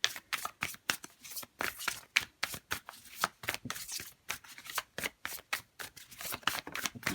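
Tarot cards being shuffled by hand, a quick regular series of crisp riffling bursts, close and clear, repeating steadily with short gaps between them and no talking.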